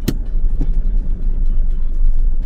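A car driving along a misty mountain road near Pelling in Sikkim, with a steady low engine and road rumble throughout and a couple of brief knocks early on.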